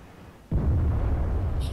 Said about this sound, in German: Ich glaube, mein Sound ist ein bisschen zu laut, beziehungsweise die Kanonen